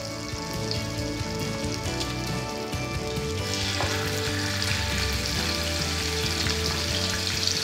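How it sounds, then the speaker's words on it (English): Pork fillet sizzles loudly in a frying pan with MCT oil and butter, a steady crackling fry heard up close throughout with occasional stirring and clinks, with no talk. "Now it's sizzling, you put in your pork."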